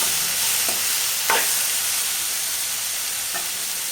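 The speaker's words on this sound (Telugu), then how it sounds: "పసుపు, ఉప్పు వేసుకొని అంతా ఒకసారి ఇలా కలుపుకొని" Ridge gourd curry with turmeric and salt is stirred in a hot pan, a steady close sizzle of frying with a few soft scraping strokes of the spoon.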